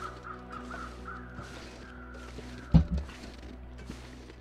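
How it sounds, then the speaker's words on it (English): Crows cawing in the survival video game The Long Dark, a few harsh caws sounding from a distance over a quiet, steady ambient hum, with one sharp thump partway through. "I wonder why the crows are over there."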